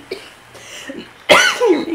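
A single sharp cough bursts out near the microphone during a husband-and-wife Nintendo Switch wheel-spinning game, following a few quieter vocal sounds.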